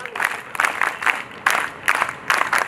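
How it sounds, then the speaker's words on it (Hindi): An audience at a girls' character-building camp graduation ceremony at an institute in Agra claps for the guests in rhythmic bursts, group clapping swelling and easing in waves of roughly half a second. "एक बार सभी अतिथियों के लिए जोरदार तालियां"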